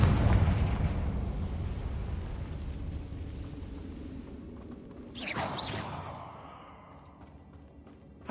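A Confringo blasting-curse explosion in the Hogwarts Legacy video game hits as a loud, booming burst that decays into a long rumble, followed by a brief whooshing sweep before fading.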